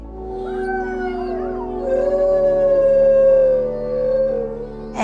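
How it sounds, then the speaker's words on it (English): A wolfdog howls in a long, loud, rising and falling wail close by, with a second voice joining in a wavering harmony and no talking. "that cool howling gets old after a week"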